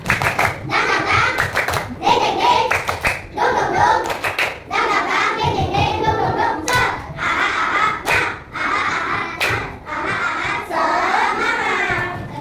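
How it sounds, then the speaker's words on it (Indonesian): A class of children doing a 'tepuk semangat' clapping routine with their teacher, bursts of rhythmic group hand claps in a set pattern, alternating with chanted children's voices throughout. "Biar lebih semangat. Tepuk semangat."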